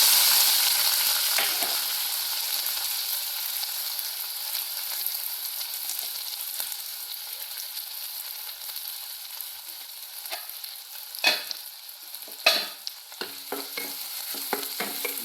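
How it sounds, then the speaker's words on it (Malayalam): Chopped onion, tomato, green chilli, ginger and garlic fry in oil with popped mustard seeds, giving a continuous sizzle and intermittent scraping stirs of a spatula in the pan, growing busier toward the end; no voices. "കുറച്ച് സവാള തക്കാളി പച്ചമുളക് ഇഞ്ചിയും വെളുത്തുള്ളി ഇതൊന്ന് മൂപ്പിച്ചെടുക്കാം"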